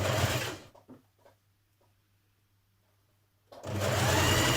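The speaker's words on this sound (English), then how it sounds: "you're just going to stitch along there to make one long strip" Sewing machine stitching fabric into one long strip for a summer dress, a loud steady motor whir that runs, stops for a near-silent pause with a faint hum and small handling clicks, then starts up again.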